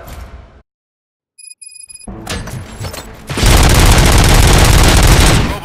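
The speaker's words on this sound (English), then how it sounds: "Gunshots?" Gunfire in the Robocop: Rogue City video game: a thump and brief silence, then scattered shots building into a loud, sustained burst of rapid automatic fire and explosions.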